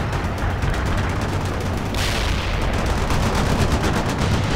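Rifle squad gunfire in the real-time strategy game World in Conflict: dense, continuous bursts of rifle and machine-gun fire with heavy low rumble, rapid rattling shots throughout, loud and close, no voices.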